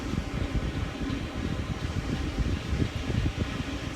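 A stand dryer blasts air over a show dog's coat, a steady loud roaring rush that stays constant throughout, close up with no talking.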